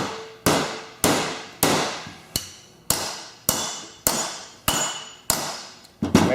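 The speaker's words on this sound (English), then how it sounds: "I'm going to put the valve back in, then I'm going to take a hammer and I'm going to tap it back in." A hammer taps a small engine valve back into its valve seat, delivering about ten sharp, evenly spaced metallic strikes, each ringing briefly before the next, loud and close with no speech.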